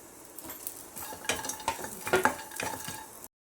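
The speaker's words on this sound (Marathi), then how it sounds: "पॅनमध्ये खोबरं आणि कांदा घालायचा आहे भाजायला" Coconut and onion roasting in a pan for a jackfruit curry, with scraping stirs and a light sizzle, utensil clinks rising in the middle and last stretch, close and alone with no talk.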